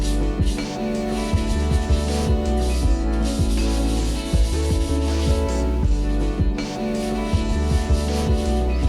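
Light, close rubbing over a chalk-painted surface to smooth it, soft continuous scuffing strokes with faint hiss, steady and unhurried.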